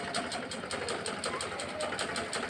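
A sewing machine runs steadily, its fast mechanical stitching rhythm close and continuous with no talk over it.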